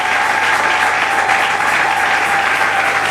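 A church congregation applauding together, a continuous, loud, even clapping that fills the whole moment without a break.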